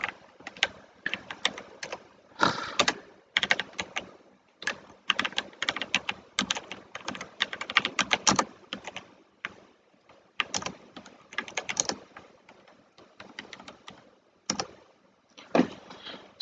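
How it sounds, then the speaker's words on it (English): A computer keyboard being typed on in bursts of quick clicking keystrokes, with short pauses between runs, fairly close and moderately loud, with no talk. "Also, if I could learn how to type,"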